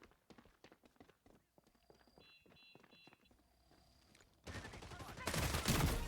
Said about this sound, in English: I have 18 bullets, but I shoot 3 at a time.